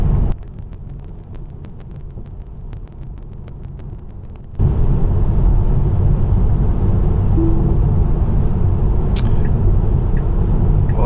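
Car cruising on a highway during an automatic lane change, a steady road roar and tire rumble that grows noticeably louder partway through, with no talking.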